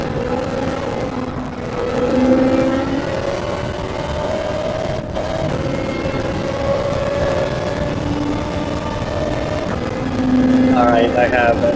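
A Ferrari 458 Italia GT3 engine in a racing video game played in PSVR drones steadily and loudly throughout, its pitch shifting slightly as the car laps the track.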